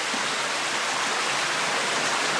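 Underground stream in Deadhorse Cave flows with a steady, full rushing hiss, close and even throughout with no other sounds.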